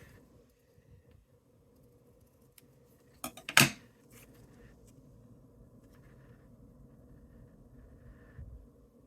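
Small piece trimmed off a card with one brief, sharp cutting snip close by, surrounded by quiet room tone and faint handling rustles.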